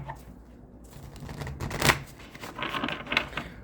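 A deck of oracle cards is shuffled by hand, producing a run of soft riffling and flicking bursts, close and clear, with no talk.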